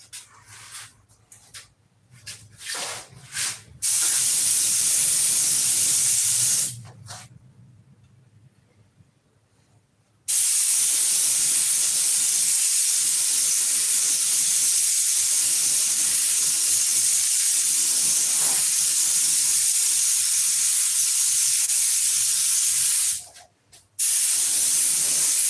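A sprayer lays down lacquer in two long, loud hissing bursts, the second lasting over ten seconds, with a final short burst near the end; brief handling noises come between the bursts.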